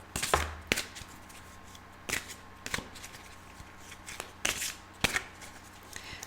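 Tarot cards being shuffled during a love reading, with soft repeated riffling bursts at an uneven pace, close and fairly quiet, with no talking over them.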